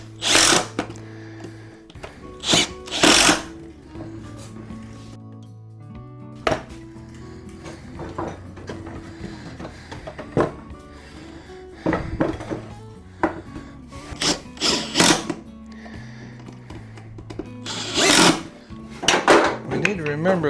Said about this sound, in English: Driver screws.